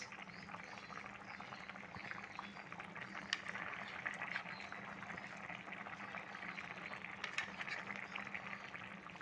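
Hilsa fish curry with potato, aubergine and taro bubbling in a pot, a steady soft simmer with faint bursts of bubbles throughout, fairly quiet and without talk.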